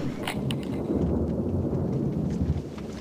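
Rumbling thunder rolls through heavy, steady rain, a dense low roar with scattered drops pattering close by, continuous and fairly loud with no voices.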